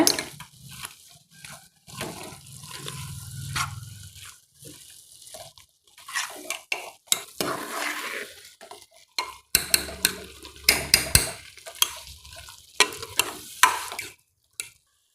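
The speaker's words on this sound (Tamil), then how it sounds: "எல்லாத்தையும் நல்லா கலந்து விட்டுக்கோங்க" A spoon stirs prawn and plantain gravy with garam masala and chili powder in a pan, giving intermittent scraping strokes over a soft sizzle, with quiet gaps between bursts of mixing.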